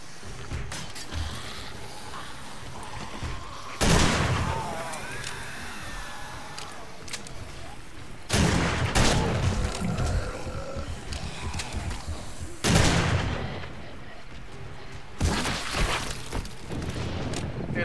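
Gunfire in 7 Days to Die (Darkness Falls) during a horde night, several loud booming bursts separated by stretches of growling, rumbling game noise.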